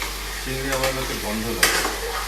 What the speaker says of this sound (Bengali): আমি তো চিংড়ি ভেজে নি